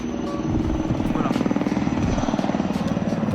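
An aircraft flies nearby along a long road with passing cars. Its loud, rapid pulsing engine drone sounds like a helicopter and stays steady throughout.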